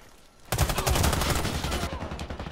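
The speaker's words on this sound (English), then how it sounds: "Person's using that shotgun." Shotgun fire in the online shooter Warface during a team deathmatch, a sudden burst of rapid, loud blasts that continues in quick succession and then tapers slightly.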